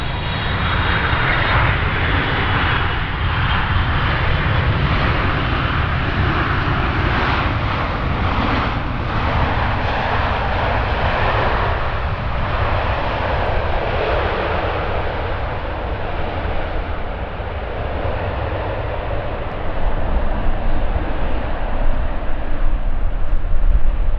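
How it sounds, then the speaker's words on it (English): Airliner touching down in a strong crosswind on runway 18R at Schiphol Airport in the morning, its engine roar loud, broad and continuous for the whole span, swelling slightly near the end, with no talk. "That was quite a rough landing."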